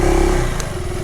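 A motorcycle engine runs close by on a Nepal mountain road, a loud, throaty mid-range drone with a slight rise in revs over about a second.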